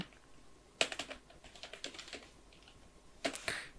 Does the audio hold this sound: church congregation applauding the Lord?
no